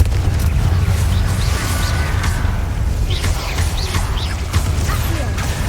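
Confringo blasting spell explosions in Hogwarts Legacy, a dense, loud, rumbling roar of booms and crackling debris filling the whole stretch without letup, with faint chirps mixed in.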